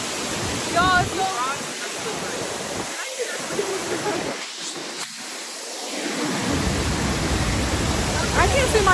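Waterfall in Oaxaca pouring with a constant, full rushing roar of water that changes a little in strength, with people talking nearby over it.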